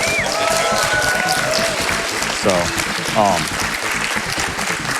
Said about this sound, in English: Give them a big round of applause while you can.